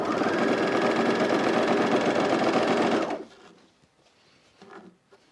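A sewing machine runs steadily for about three seconds while top stitching a side seam on a pair of Zen pants. Its dense mechanical whir stops abruptly, leaving faint handling noises.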